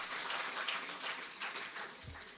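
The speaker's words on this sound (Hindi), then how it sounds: "आपकी जोरदार तालियां माता और पुत्र दोनों का अभिनंदन करें" An audience claps for a medal winner and the winner's mother at a felicitation ceremony for Asian Games 2022 medallists, the applause faint, dense and steady over a short stretch.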